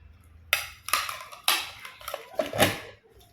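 Ceramic bowls handled while shopping, several sharp clinks and clacks as pieces are picked up and set down, close by with irregular spacing and no talk.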